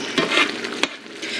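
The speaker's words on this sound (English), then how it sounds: "And we'll stir." Masala being stirred in a frying pan: a soft steady sizzle broken by two sharp scrapes of the spoon, close up, with no talking.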